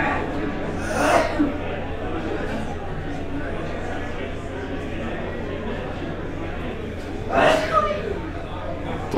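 A bystander near a card game table at a tournament feature match sneezes twice, one sharp burst early and another near the end, over steady crowd chatter and background talk.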